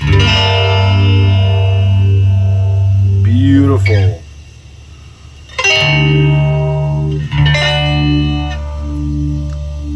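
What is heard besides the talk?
1974 MXR Phase 45 phaser pedal smooth phasing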